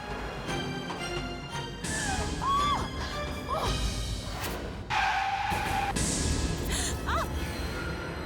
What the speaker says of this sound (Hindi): अरे कह भी रही थी गाड़ी आहिस्ते चलाओ, एक्सीडेंट कर दिया तूने।